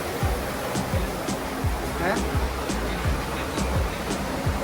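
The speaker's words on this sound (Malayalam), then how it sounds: "ഉള്ളിൽ നിന്ന് വെള്ളം പോകുന്നുണ്ടേ" Water flows out from inside Odakolly cave in Kasaragod, a continuous rushing wash heard close and fairly loud, with a voice faintly present at times.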